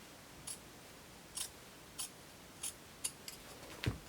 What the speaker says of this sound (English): I'm only cutting through the seam allowance